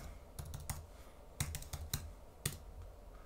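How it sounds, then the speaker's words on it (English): Keys on a computer keyboard clatter in quick short bursts of typing, close and fairly quiet, with brief pauses between the groups of strokes. "then I'm going to type in Facebook"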